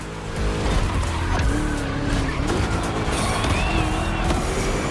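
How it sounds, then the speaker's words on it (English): Racing car with a V8 engine in the Motorfest video game, roaring steadily at close range with rising and falling revs and tire squeal throughout, loud and continuous. "Just listen to that V8 like a chunky, down-tuned guitar riff."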